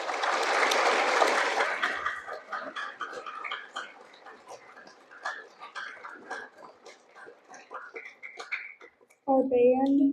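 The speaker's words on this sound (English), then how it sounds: "Let's give them a round of applause." A school assembly audience gives a brief burst of applause for the chorus, fading within two seconds into quiet scattered voices and murmurs before a speaker talks again.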